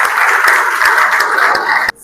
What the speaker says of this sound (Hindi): एक बार अपने मैनेजमेंट के लिए जोरदार तालियां